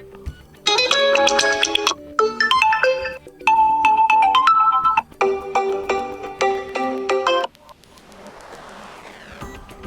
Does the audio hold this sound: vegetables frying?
no